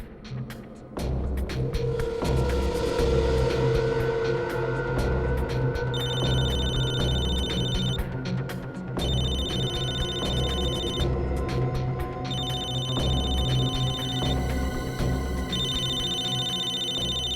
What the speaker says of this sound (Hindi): दया इसके मोबाइल पे क्यों फोन कर रहा है?